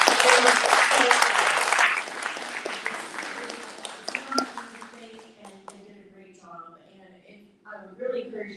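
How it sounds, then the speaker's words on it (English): Applause from an audience at an annual meeting, loud and dense for about two seconds, then thinning into scattered claps as voices and talk come through over the fading end. "I'm gonna ask you all to give them a round of applause"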